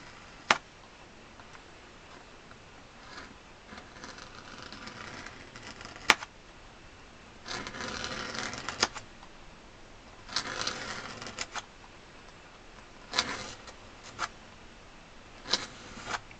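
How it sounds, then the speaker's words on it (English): A blade slices a leather strip in half for a handmade belt, producing scattered faint scraping and ticking cuts in several short bursts over a quiet background. "let's just now carefully cut this in half"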